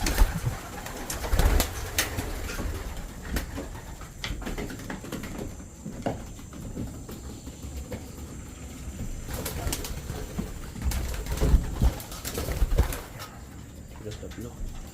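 Pigeons coo softly nearby among rustling and occasional wing flaps, with people speaking quietly in the background.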